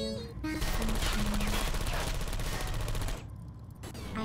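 Turret in Portal 2 firing a rapid, continuous burst of gunfire, loud and close, that runs about two and a half seconds before cutting off into quieter game ambience.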